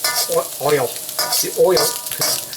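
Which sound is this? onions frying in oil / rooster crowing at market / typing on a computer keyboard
onions frying in oil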